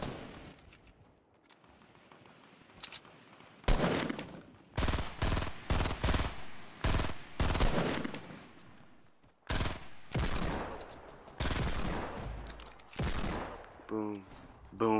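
Assault rifle gunfire in a Fortnite 50v50 battle royale match: repeated loud bursts and rapid volleys of shots from about four seconds on, following a quieter opening, with brief gaps between strings of fire.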